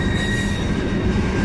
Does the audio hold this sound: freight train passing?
yes